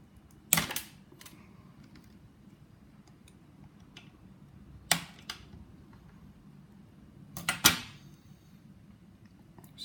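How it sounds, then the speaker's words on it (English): Wires are snipped during a full strip-down of an HK416D's mechanics: three separated crisp cutting clicks, some doubled, sound close by against a quiet room hum, with no talking. "So what we're going to do now is we're going to cut these wires"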